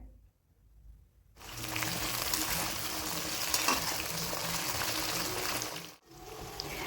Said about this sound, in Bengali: এখন আলুগুলোকে ভেজে নিতে হবে